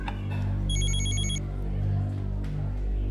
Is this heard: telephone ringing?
yes